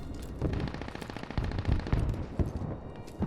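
Machine gun fire from an MT-LB armored vehicle in the Squad video game, rapid bursts of gunfire mixed with distant explosions and impacts, loud and irregular.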